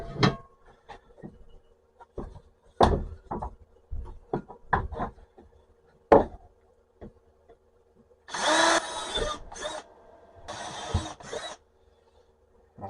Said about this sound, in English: That was just a pilot hole because I've got a bigger drill bit, so I figured I'd do a smaller one first.